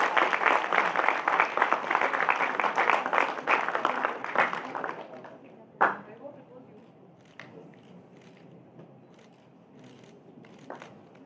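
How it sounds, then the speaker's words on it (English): Audience applause at an inauguration ceremony: sustained dense clapping from a crowd for about five seconds, then fading to a sparse room with a few isolated claps and faint murmurs. "A big round of applause."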